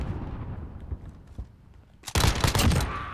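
Gunfire in the Modern Warfare multiplayer map Aniyah Incursion bursts in loud and close after a quiet, rumbling stretch, as a rapid volley of shots runs for about a second.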